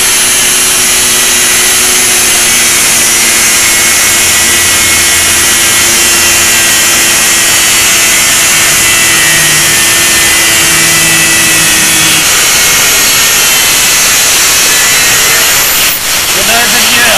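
A power tool grinds steadily on an epoxy and wood table, a loud continuous whine holding for most of the stretch before a brief shift near the end.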